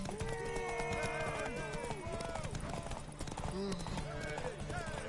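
Horse hooves clip-clopping in a video game played on a PS4, a steady rhythmic trot under a busy mix of game music, voices and effects, with a horse whinny heard briefly.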